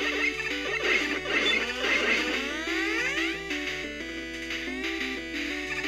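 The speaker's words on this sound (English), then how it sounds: "That's the sound of some rather nasty instant death things from Quick Man stage." Chiptune effects from the instant death hazards in the Quick Man stage of Mega Man, heard as sweeping electronic squeals and descending laser-like tones layered over looping synth game music, loud and busy throughout.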